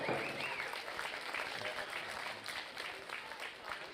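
Faint, sustained applause rises from a crowd at a junior market barrow livestock show, honoring the swine committee; a dense wash of clapping with a voice heard over it.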